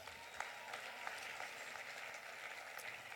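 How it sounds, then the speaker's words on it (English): Audience applause at an awards gala honouring an activist, a steady, moderately distant patter of many hands clapping that fills the whole stretch without pause. "You can applaud that."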